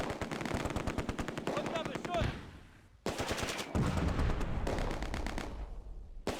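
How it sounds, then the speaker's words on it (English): Heavy machine guns fire in sustained, rapid bursts in a Close Combat battle at Arnhem bridge, loud and close, with a brief lull before the chattering resumes alongside heavier booms. "We're under heavy fire."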